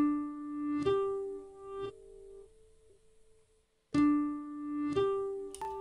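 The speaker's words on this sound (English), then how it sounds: "the first effect I added to it was halftime" A melody in an FL Studio Japanese-style beat, pitched an octave higher and slowed by a halftime effect, plays alone as sparse, dark, drawn-out tones with a near-silent gap in the middle.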